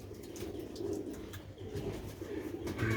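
Pigeons in a colony of pure black-faced Sialkoti pigeons give steady low cooing, continuous and close, over a soft background hum.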